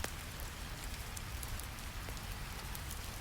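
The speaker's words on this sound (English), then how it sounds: "Rain continues, falling steadily." Steady rain falls in a dense, even hiss of close raindrops on a surface, constant and unbroken, with no voices.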